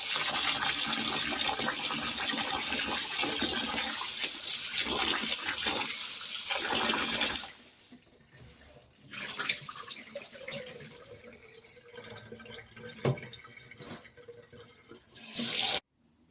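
Rice washed in cold water in a kitchen: a strong, steady gush of running tap water for several seconds, then softer swishing and dripping with a light clink, ending in a brief renewed rush of water.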